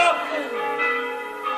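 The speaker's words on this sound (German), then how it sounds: "Die Glocken!" Bells ring in a 1997 film, bright metallic tones with a long decaying ring, a second strike following shortly after, fairly loud and close, with a voice mixed in.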